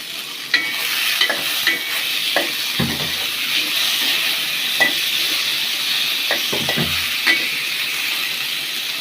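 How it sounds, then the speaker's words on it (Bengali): Tomatoes added to fried onions in a pan sizzle steadily up close, with repeated spatula scrapes and knocks against the pan breaking through the hiss. "পেঁয়াজগুলো হয়ে গেছে, এখন টমেটো দিয়ে দিলাম।"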